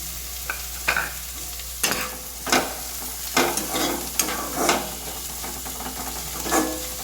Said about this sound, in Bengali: টমেটো নরম হওয়া পর্যন্ত একটু ভেজে নেব।